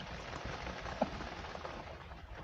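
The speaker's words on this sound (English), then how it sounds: "I look around, pouring down rain." Steady heavy rain pours down outside, a dense continuous hiss of drops hitting surfaces, with one brief faint tap partway through.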